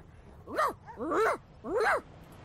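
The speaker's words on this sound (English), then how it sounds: "The dog whines and continues pawing at its nose." A dog in the video game Divinity: Original Sin 2 whines three times in rising-and-falling whimpers, close and clear, with no talking over it.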